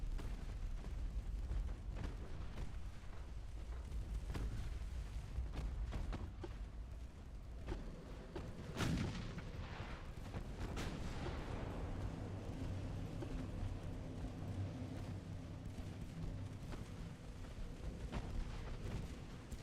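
A warship's main guns fire armor-piercing shells in a naval video game, a booming blast near the middle rising over a continuous low engine and sea rumble, with fainter distant thuds around it.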